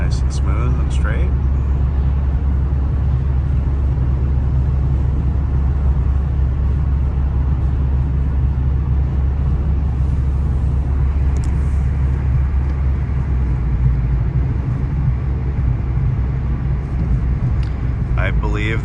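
Steady road and engine rumble inside a 2000 Toyota Camry LE cruising on the freeway around 55 mph, a continuous low drone with faint wind noise, no voices over it.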